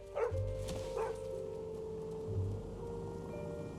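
A dog barks a few times in short bursts near the start, with one more bark around the middle, over a steady background hum.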